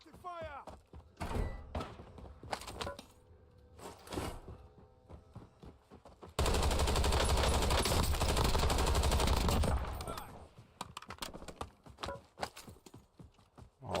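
Gunfire in the battle royale game Warzone, with bursts of shots and impacts scattered through the passage and a long stretch of dense, loud, continuous fire in the middle, mixed with other game sounds.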